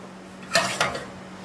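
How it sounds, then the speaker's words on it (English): Egg yolk being stirred into hot cherry dumpling soup in a pot just off the heat, heard as two quick utensil scrapes and clinks against the pot, close and fairly quiet, with no talking. "and then we'll stir in the egg yolk."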